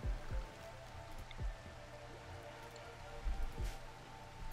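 Steady rain in the video game RimWorld, a soft continuous patter with a few heavier drops or drips, moderately quiet with no talking over it.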